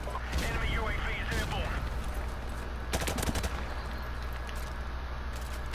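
An RPD machine gun fires in Modern Warfare Remastered, with a couple of short, punchy bursts of rapid shots early and again midway over steady game ambience, while a voice talks across the action.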